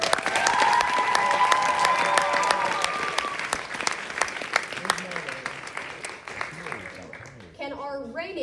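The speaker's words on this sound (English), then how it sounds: "Can we give these young men a big round of applause?" A high school pageant crowd gives the young male contestants a big round of applause, loud dense clapping with some cheering that gradually thins out toward the end, with a voice speaking over it briefly at the close.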